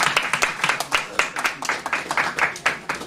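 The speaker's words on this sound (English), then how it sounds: "I think she deserves a round of applause." An audience claps for a contestant on a comedy show, a brisk stream of close, sharp handclaps in an uneven rhythm that stays lively for a few seconds with no voices over it.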